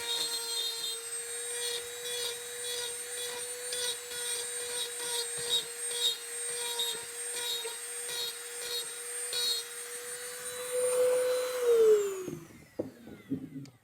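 Dremel rotary tool grinding a textured surface on a Halloween cauldron creep prop with a steady high whine and rhythmic scraping, close, then winding down at the end.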